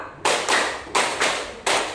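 A class of students claps together in a counted rhythm game, five crisp, loud group claps in uneven pairs with short gaps between, no talking.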